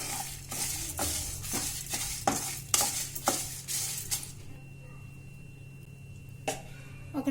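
Chettinad masala spices roast in a pan on a low flame, with a series of rhythmic scraping stirs and soft clinks over a faint sizzle, followed by quieter moments and a final couple of spatula knocks.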